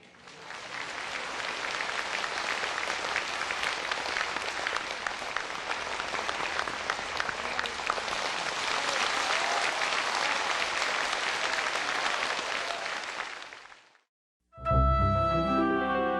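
Long sustained audience applause at a spiritual gathering in Hsihu, a steady dense roar of clapping that fades out, followed by a brief musical or vocal sound right after.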